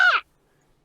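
A human voice imitates the harsh screech of a Steller's jay: one short, loud, raspy call lasting about a quarter second, followed by near silence.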